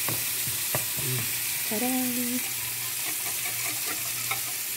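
Scrambled eggs are stirred in a sizzling frying pan, with a steady hiss of frying under scraping stirs, close by; a voice speaks briefly over it.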